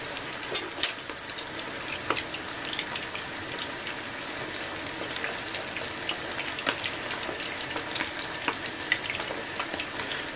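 Greek meatballs of 50 to 60 grams frying on one side in hot oil in a pan, a dense continuous crackling sizzle with scattered pops, close and steady, no voices.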